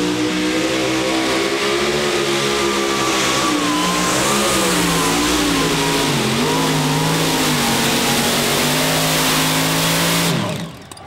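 Three big aluminum block Chevrolet drag racing engines rev loudly and steadily at a South Dakota event, with pitch rising and dipping through sustained full-throttle roars that cut off abruptly near the end.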